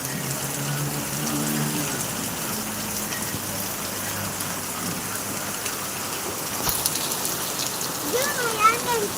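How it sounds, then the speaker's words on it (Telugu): Heavy rain pours steadily in Badvel, a dense hiss of falling water close by, while a voice speaks briefly over it. "పెద్ద వర్షం కదా అవును చూడండి ఎలా వస్తుందో"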